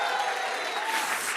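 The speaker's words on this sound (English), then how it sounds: "can you give yourselves a round of applause?" An awards-ceremony audience applauds itself, dense sustained clapping from a large crowd filling the room at a steady level throughout.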